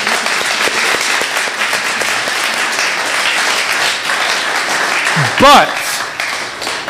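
A church congregation claps together in sustained, dense applause that fills most of the moment, with a speaking voice briefly cutting through near the end.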